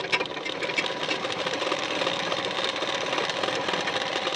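A sewing machine runs steadily, stitching along the edge of the neck facing on a boat-neck blouse. The close, even mechanical whir continues without a break until it stops abruptly at the end.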